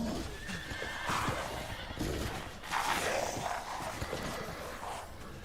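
Horses whinny and neigh in the video game Resident Evil Village, joined by hoof clip-clops. The cries rise in loud, shrill bursts over a murky game ambience, with no talk over them.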